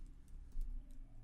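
Light typing on a computer keyboard while writing code, a few soft, close key clicks at an uneven pace against quiet room noise.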